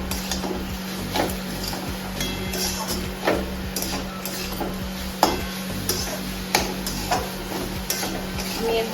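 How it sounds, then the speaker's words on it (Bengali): Vegetable chops frying in a pan, a soft continuous sizzle under a steady low hum, with occasional sharp taps and scrapes of a utensil against the pan. "ভালো করে আবার ভাজতে হবে।"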